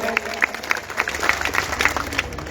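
An audience claps at a live mushaira poetry event in Kishanganj, India. The applause is steady and dense for the whole stretch, with sharp individual claps standing out above a broad crowd wash, and faint crowd voices mixed underneath.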